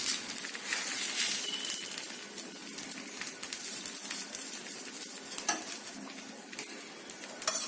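Masala dosa with ghee sizzles on a hot pan, a steady, close hiss of frying with occasional light scraping and clinks, and no voices.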